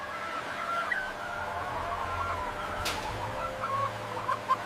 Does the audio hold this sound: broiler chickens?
yes